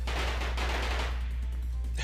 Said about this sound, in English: And then they unleashed firecrackers at us.